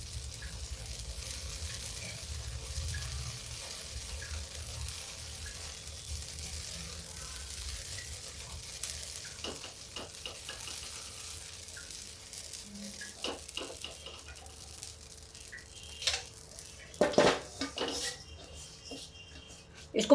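Food fries quietly in a pan with a soft, continuous sizzle while being stirred, and scattered scraping clicks grow more frequent toward the end.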